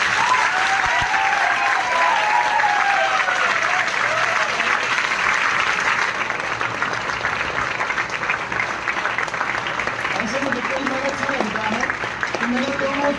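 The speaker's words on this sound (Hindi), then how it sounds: "एक बार और जोरदार ताली बजाओ।" A large audience claps loudly and steadily at a motivational success-story event, the dense applause sustained without a break, with voices and cheers rising over it.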